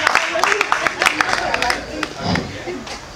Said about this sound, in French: je vous en prie, applaudissez pour les filles d'Abidjan.